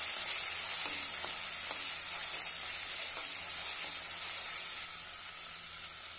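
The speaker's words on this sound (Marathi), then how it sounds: "एक टोमॅटो बारीक कट केलेला आहे तो घालूया। छानपैकी परतून घेऊया।" Finely chopped tomato sautéing in hot oil with a continuous loud sizzle and faint, regular stirring taps from a spoon, with no talking.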